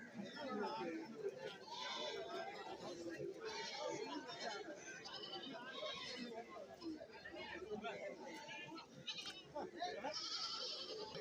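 Goats bleat repeatedly amid a busy crowd's chatter and voices at a goat market in Thiruvananthapuram district, Kerala, a continuous lively market din with overlapping calls near and far.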